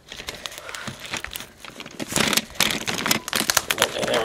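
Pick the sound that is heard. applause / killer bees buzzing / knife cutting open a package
knife cutting open a package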